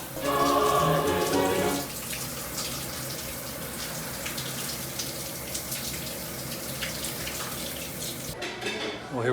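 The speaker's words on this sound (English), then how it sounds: "My first shower in 7 days." Shower water runs in a constant, hissing spray, heard close throughout. Other sounds briefly sit over the water at the start, and there is a short clatter near the end.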